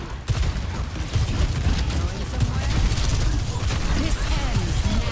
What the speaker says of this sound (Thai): โอ้ ระเบิด ระเบิด